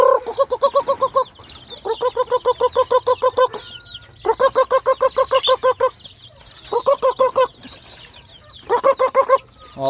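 Caged chickens cluck loudly and close, in rapid rhythmic bursts of repeated calls separated by brief pauses, continuing throughout with no talk.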